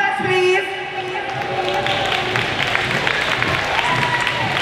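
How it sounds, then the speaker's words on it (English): Crowd applause and cheering at a Caribbean fashion week show, steady and lively under tonal music and voices in a noisy venue. "round of applause, please."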